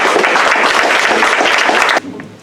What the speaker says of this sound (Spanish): les pido un aplauso para cada uno de ellos